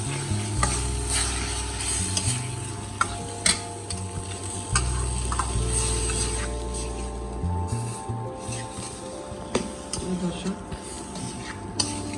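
Dried fish and mixed greens, including sweet potato leaves, are stirred as they fry in a pan, a steady sizzle and repeated scraping of the spoon running throughout, fairly close, with some background voice.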